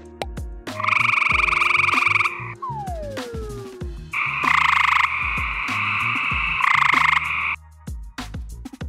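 Frogs call at night in loud, sustained trilling bursts separated by short pauses, with quieter croaks and other calls running underneath.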